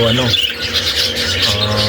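A pet parakeet with a broken leg chirps in a few close, repeated tweets, with a human voice faintly present underneath.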